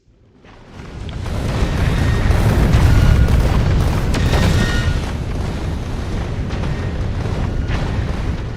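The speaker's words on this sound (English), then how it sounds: "Lighting up the deep space far away from any star by the means of explosive rockets." Explosive rockets detonating in deep space far from any star in Factorio Space Age, a sustained rumbling barrage of deep booms and bursts that swells loudly and holds steady without any voices.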